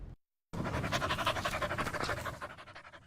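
A dog playing in a park pants rapidly and loudly close by, a steady rhythmic run of breaths after a brief silent gap, fading near the end.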